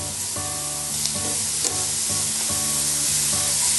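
Bacon cooks in butter in a very hot pan, crackling and sizzling loudly and steadily up close while a utensil scrapes and clatters now and then.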